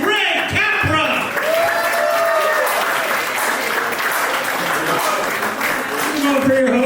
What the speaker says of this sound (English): Please clap your hands, everybody.